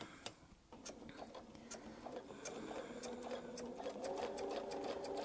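A sewing machine stitching quarter-inch Baptist fan quilting arcs runs steadily and quietly, with a fast, even mechanical ticking throughout and a faint hum that grows slightly louder toward the end.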